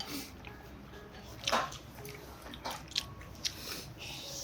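Close, wet slurping and chewing of tsukemen dipping noodles at a Tokyo restaurant, with a few sharper bites and slurps standing out over a quiet background and no talking.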